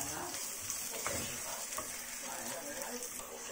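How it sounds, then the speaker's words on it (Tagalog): Garlic and onion sautéing in hot oil in a pan, a steady close crackling sizzle with light stirring scrapes throughout. "Nagpapainit na ako ng mantika dito. Tapos, unahin na natin igisa yung garlic."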